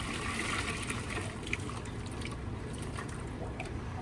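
Fish and water being poured from a container into a small net above a home aquarium, a steady, fairly loud splashing and trickling wash that runs throughout without talk.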